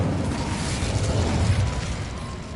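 A fire spell cast in the Hogwarts Legacy video game gives a steady, roaring burst of flame with a deep rumbling low end, sustained and loud for a couple of seconds without pause.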